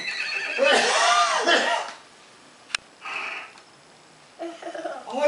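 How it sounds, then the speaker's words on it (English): A horse whinnies loudly and close for about a second and a half, then voices talk nearby with a brief knock and more rustling toward the end. "That's a horsey"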